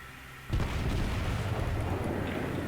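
Naval gunfire from a warship in World of Warships: a heavy boom hits half a second in, then a loud, sustained rumbling roar fills the rest of the clip with no talk over it.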